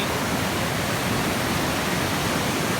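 Phromlok Waterfall in Phrom Khiri, Nakhon Si Thammarat, Thailand, pours in a loud, steady, broadband roar close by, with no pauses and no voices.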